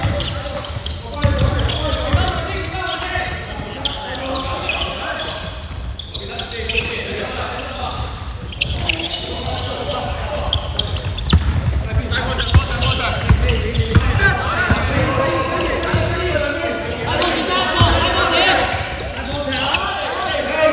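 Repeated ball bounces on a hard court, irregular and energetic, mixed with ongoing talk and squeaky movement in a busy gym.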